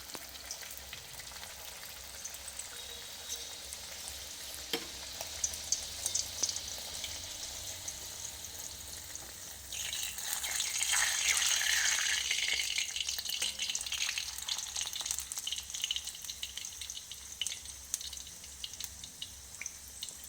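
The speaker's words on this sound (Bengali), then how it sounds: "একটা একটা করে কচুরি আমি অল্প আঁচে ভেজে নিচ্ছি।" Pea-stuffed kachori deep-fry one at a time on low heat in a karai, a soft steady sizzle of oil that swells into a louder, brighter bubbling hiss midway before settling, with occasional faint clinks.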